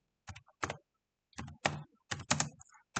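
Keys on a computer keyboard clatter in short bursts of typing, close and crisp, with brief pauses between groups of keystrokes and otherwise silence.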